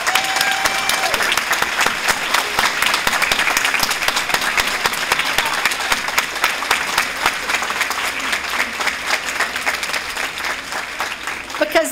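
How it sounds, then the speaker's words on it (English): A large crowd at a Brockton school community evening applauds its school principals, sustained and loud dense clapping that holds steady for around twelve seconds and only eases slightly near the end. "I want a big round of applause for your principals."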